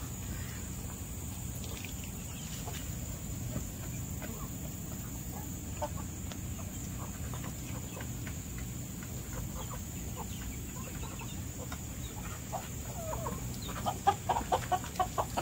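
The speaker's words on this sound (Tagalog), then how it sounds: "It have different kinds of chickens." Assorted chickens cluck and murmur throughout a poultry farm, a dense continuous flock chatter under a steady hum, with sharper clucks rising near the end.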